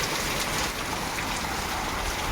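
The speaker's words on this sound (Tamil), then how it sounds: "இன்னும் மழை நல்லா பெய்யுது பாருங்கள்" Heavy rain pours steadily during a storm with strong winds, a dense, loud, unbroken hiss of drops striking surfaces nearby, with no voices.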